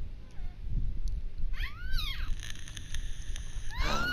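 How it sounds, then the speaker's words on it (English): Cat meows inside the Fortnite video game, two rising-and-falling calls, the first drawn out and a shorter one at the end, set over steady low game background noise. "He's a cat. He's a kitty cat."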